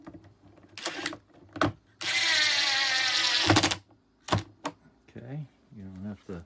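A power drill drives screws into the handle of a Ridgid HD0600 6-gallon shop vacuum, with several short whirring bursts and one longer sustained run, close and loud, separated by pauses and brief talk.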